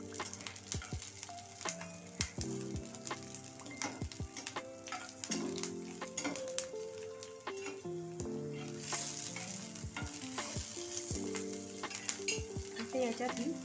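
Peeled garlic being sautéed in a pan for Maharashtrian thecha, with steady close stirring and a scraping spatula over a continuous sizzle, along with frequent sharp clinks and taps.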